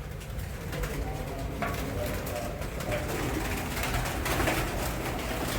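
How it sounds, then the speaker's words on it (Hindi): Pigeons coo softly upstairs while being fed grain, amid a steady, busy background hum, with faint rustling and movement throughout. "काफ़ी कबूतर हैं पकड़े हुए हैं"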